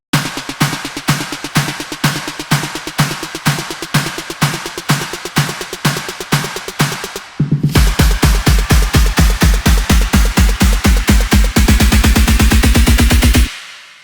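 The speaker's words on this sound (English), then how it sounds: "And yeah, I did a lot of snares" Snare drums in an EDM remix build hit in a fast, steady roll that tightens partway through as deep kick-like thumps join, growing denser toward a sustained burst before cutting off, loud and close.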